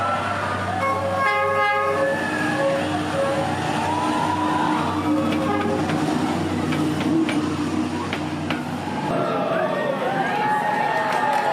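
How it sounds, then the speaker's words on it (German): A train rolls slowly through a narrow street in Hanoi, its horn blaring in steady tones at the start, then a continuous loud rumble and clatter of wagons passing close by, with crowd chatter and murmuring voices around it. "Denn mehrmals täglich verkehrt hier ein Zug"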